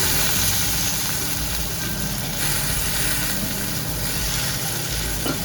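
Chana dal frying in a pan, a dense, loud, steady sizzling hiss with a low rumbling undertone that runs unbroken throughout, with no voices.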